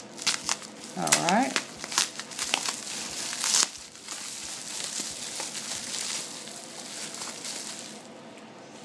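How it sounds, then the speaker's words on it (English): Crinkling and rustling of a plastic mail bag being snipped open, close and fairly soft, with a brief spoken word near the start. "Let's snip it open."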